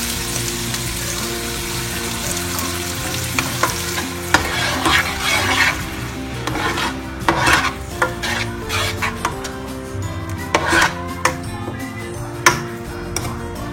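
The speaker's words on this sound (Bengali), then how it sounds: "টমেটো পেস্ট দিচ্ছি।" Tomato paste goes into a sizzling pan for Bengali prawn malai curry, giving a loud continuous fry hiss broken by repeated scraping stirs of a spoon against the pan, up close with no talking.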